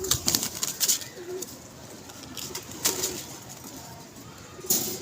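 Pigeons at a pigeon club coo softly while wings flap in short bursts, some loud and close, over a quiet background.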